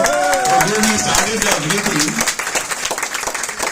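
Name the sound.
audience applause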